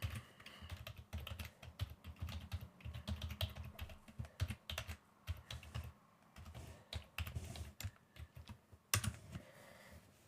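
Password being typed on a computer keyboard during a Windows 11 sign-in, a close, irregular run of crisp key clicks and taps with brief pauses, no talking.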